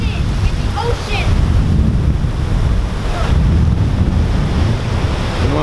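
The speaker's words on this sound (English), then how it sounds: "Man, there's a bigger fucking wave coming." Ocean waves surge and crash against the rocky shore at Sunken City in San Pedro, California, loud and close under heavy wind buffeting, with rolling swells building and breaking repeatedly.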